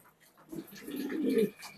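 Pigeons at a bird market in Gabtoli, a soft low coo rising and swelling for about a second, close and fairly quiet, with no talk.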